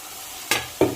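Turmeric-coated Mourala fish dropping into hot oil in a pan, giving two sudden sizzling bursts after a quiet simmer, the second louder and lingering.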